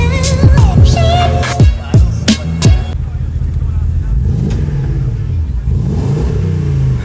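Porsche Cayenne Turbo with a new aftermarket exhaust, revved in several sharp blips that rise and fall quickly, then settling into a lower idle rumble with a few gentler revs near the end.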